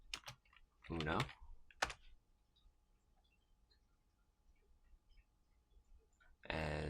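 Computer keyboard typing, a few close, soft clicks in short bursts between brief spoken words, then a louder flurry of keystrokes at the end.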